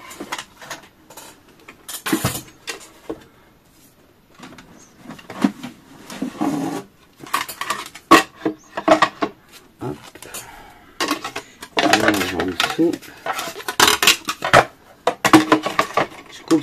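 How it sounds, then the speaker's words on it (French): A hand-cranked die-cutting machine rolls paper for craft flowers on a white plastic plate, producing irregular clunks, rattles and grinding bursts separated by short pauses, close and fairly loud. "je reprends ma machine de coupe"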